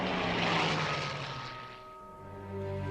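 Hawker Hurricane fighter plane engine from the Second World War era, a loud, near propeller drone that eases slightly midway, then holds a steady, tonal hum with no voices.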